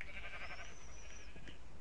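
Sheep bleat in the video game Minecraft: a single drawn-out, wavering bleat over a steady low background hum, fairly faint.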